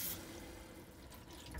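Hot water running from the drop-down sink tap inside an Autocruise Vista motorhome, a steady, quiet, continuous trickle that stays alone throughout, with no talk over it.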